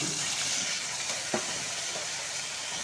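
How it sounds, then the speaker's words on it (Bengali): Ground mustard spice paste sizzles in hot oil with white cumin seeds in a pan, a steady close frying hiss with a single sharp spoon clink partway through. "তো এই মশলাটা এখন বেশ ভালো করে কষিয়ে নেব"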